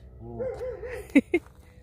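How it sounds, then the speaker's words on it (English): Two short, sharp barks ring out close together from neighborhood dogs near the end, after a brief whining yelp. "couple dogs"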